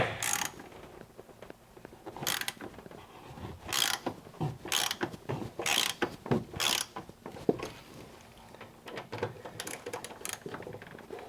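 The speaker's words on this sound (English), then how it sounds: "I'm going to go through with the socket wrench, break all of these loose first." Bursts of close, rapid ratcheting clicks from a socket wrench breaking screws loose inside a 2024 Sprinter van, repeated again and again with short pauses between turns.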